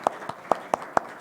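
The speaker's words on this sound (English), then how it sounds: "So let's give all of our guests a round of applause." Six sharp, separate handclaps at an uneven pace from a few people at a Mayor's Health Commission program honoring guests. The claps are close and clear against a quiet room, with no talking.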